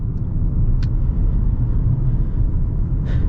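Steady low rumble of a 2024 Hyundai Kona N-Line with a turbocharged engine under way, a continuous road and engine drone heard from inside the car, fairly loud, with no talk.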